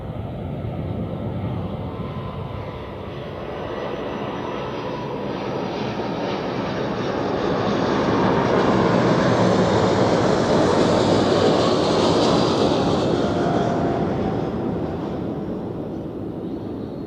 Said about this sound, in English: here we have the Swiss A330 inbound from